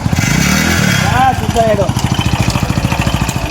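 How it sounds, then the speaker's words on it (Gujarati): A motorcycle engine starts and settles into a steady, rapid idle chug close by, while people talk over it. "બાઈક ચાલુ થઈ ગયો"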